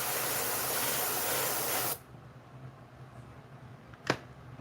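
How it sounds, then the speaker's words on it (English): A spray paint can hisses in a steady, close, loud burst for about two seconds, then cuts off, followed by a quieter background and one short sharp spurt of spray. "It's just my paint's not spraying."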